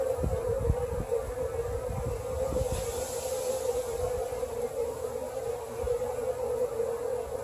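Honey bees swarm around busy hives in an apiary in September, a steady dense buzzing drone that fills the whole stretch alongside low wind rumble, with no voices.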